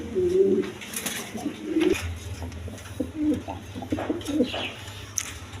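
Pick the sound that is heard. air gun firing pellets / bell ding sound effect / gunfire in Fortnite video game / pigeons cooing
pigeons cooing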